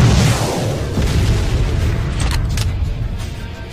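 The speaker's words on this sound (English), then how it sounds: "Pick up this recoilless anti-tank weapon and use the optics to aim down the range." A recoilless anti-tank weapon fires on a shooting range in the ArmA 2 Operation Arrowhead video game, one loud heavy boom that rolls into a long fading rumble and hiss.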